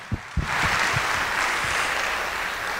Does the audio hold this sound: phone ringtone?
no